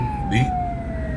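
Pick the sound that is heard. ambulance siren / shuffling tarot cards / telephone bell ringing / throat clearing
ambulance siren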